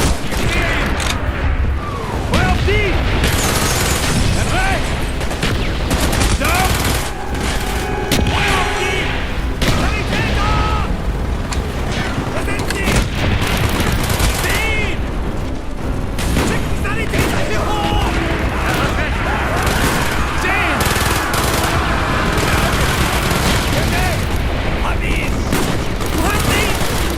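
Call of Duty Black Ops battle in Antarctica: dense volleys of rifle and machine-gun fire with heavy booms, loud and continuous, mixed with shouted soldier voices.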